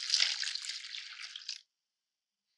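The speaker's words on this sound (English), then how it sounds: "next we're going to add 1 1/4 cups hot water" Hot water, heated in a microwave, poured for rosemary crock pot bread dough: a steady, hissy splash lasting about a second and a half, close and fairly faint, then quiet.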